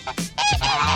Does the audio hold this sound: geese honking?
yes